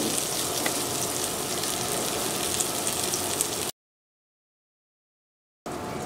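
Eggplant frying in hot oil in a pan gives a loud, steady, close sizzle that cuts out abruptly for about two seconds, then returns.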